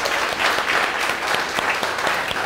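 A church congregation claps enthusiastically during a Christmas Eve sermon by Rev. Ralph Zander, sustained, even crowd applause filling the room at close range without speech.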